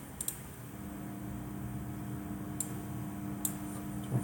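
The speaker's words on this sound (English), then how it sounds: "So there's 100 hertz tone." A 100 hertz test tone plays as a faint, steady low hum under a background hiss, with a few scattered ticks and no voices.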